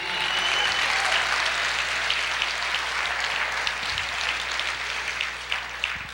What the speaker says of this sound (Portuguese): Você pode aplaudir o Senhor e dizer, eu creio.